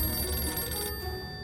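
A telephone rings in the survival game 60 Seconds! Reatomized, a continuous electronic bell tone sounding alone and steady for a brief moment.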